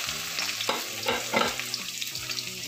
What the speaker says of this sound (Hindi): तेल अच्छे से गर्म हो गया, अब इसमें प्याज डाल लेंगे।